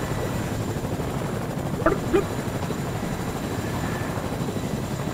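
A helicopter in the Fortnite video game gives a steady, dense rotor drone throughout, loud and constant, with a couple of brief voice sounds over it.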